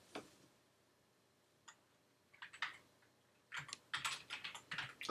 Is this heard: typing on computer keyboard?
yes